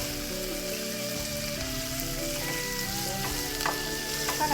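Garlic sizzles steadily in a hot pan over high heat while cooking pad see ew with shrimp, a dense continuous frying hiss with light crackles that grows slightly louder toward the end, with no talking.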